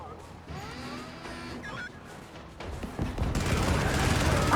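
Rockets and guns fire in the video game Helldivers, a dense stream of blasts and bursts with crashing impacts that swells into a loud roaring barrage toward the end.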